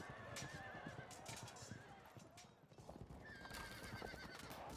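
Horses gallop with steady clip-clop hooves and neigh repeatedly during a cavalry battle with horse archers in the strategy game Field of Glory II, the dense hoofbeats and whinnies continuous and loud over busy battle noise.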